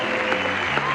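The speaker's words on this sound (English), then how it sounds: "While he's applauding and celebrating" Studio audience applause for a game show winner on Match Game PM, a brief steady burst of clapping at moderate loudness.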